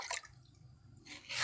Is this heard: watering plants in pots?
yes